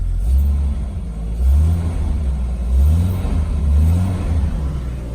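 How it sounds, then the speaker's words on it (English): Engine of a Jeep Cherokee XJ revving up and down several times inside the parked vehicle, a loud low rumble rising and falling in steady waves with no talk. "I am revving it."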